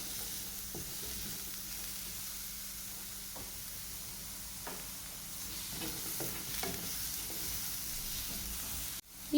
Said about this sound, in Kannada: ಇದರ ಕಲರ್ ಒಂದು ಸ್ವಲ್ಪ ಚೇಂಜ್ ಆಗುವ ತನಕ ಫ್ರೈ ಮಾಡ್ಕೊಳ್ಳೋಣ.